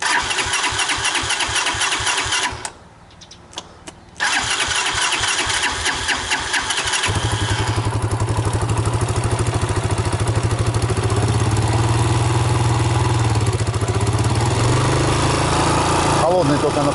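A motorcycle engine cranks with rapid chugging turnover, pauses briefly, cranks again, then catches and settles into a loud, steady idle close by.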